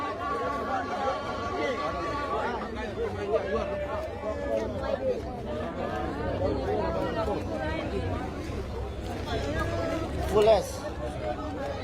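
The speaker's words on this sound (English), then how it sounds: "So we have the crowd at the front, and then we also have persons that are across the street that are probably waiting for the same thing" Dense crowd chatter at the Corozal mayoral convention, a steady outdoor babble of many overlapping voices at moderate distance with occasional louder nearby voices.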